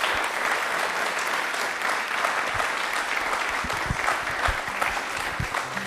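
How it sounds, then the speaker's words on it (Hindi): Steady, dense applause from a studio audience on a televised yoga special, continuous clapping filling the whole stretch without pause. "क्या बात है, जोरदार ताली"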